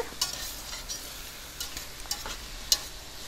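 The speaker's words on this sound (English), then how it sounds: "So there goes our beautiful fresh corn. We'll give this a nice stir." Fresh corn being stirred in a pan with shrimp and chorizo, a soft continuous sizzle with a few light scrapes and clinks of a utensil, close and alone without speech.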